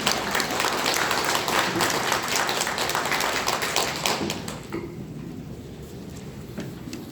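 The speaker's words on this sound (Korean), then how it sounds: "큰 박수 부탁드리겠습니다." A room of housing cooperative members at an emergency committee meeting claps loudly and continuously, a dense even roar of applause that tapers off near the end with a few last scattered claps.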